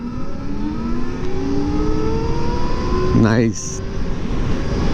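An Ola Roadster X+ electric motorcycle accelerates on a steep slope with a rising motor whine over loud wind rush, followed by a brief spoken exclamation near the end.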